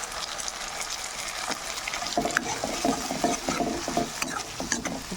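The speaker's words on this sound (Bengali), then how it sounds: "এখন দিয়ে দিব" Ginger and garlic paste frying in oil, a close sizzle with busy scraping and stirring of a spatula against the pan, growing livelier partway through.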